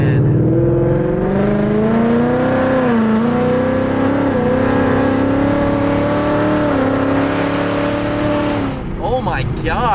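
A supercharged Ford Mustang GT engine revs loud and close, its pitch climbing steadily through each gear with brief dips at the shifts before cutting off near the end.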